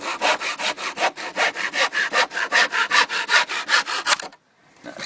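A hand saw cuts excess wood off a homemade compost bin pen in fast, even back-and-forth strokes, loud and close, about two strokes a second before stopping abruptly near the end.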